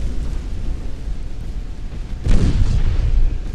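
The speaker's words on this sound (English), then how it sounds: "That's two torpedoes hit." Torpedo hits exploding on ships in the naval video game Ultimate Admiral Dreadnoughts, a deep rumbling boom rising partway through over a constant low roar of game ambience.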